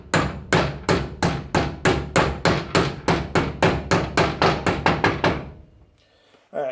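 A socket used as a driver hammers a seal into a GM Saginaw power steering pump, with about seventeen quick, even metallic blows close up that stop abruptly.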